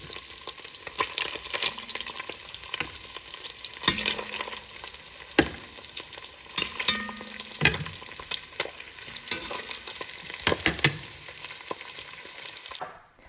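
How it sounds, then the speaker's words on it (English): Sausages sizzling as they fry in a pot for Italian meatballs, a soft steady crackle broken by repeated clanks and scrapes of stirring and turning, fairly quiet and close with no talk. "Now we're going to put in our sausages."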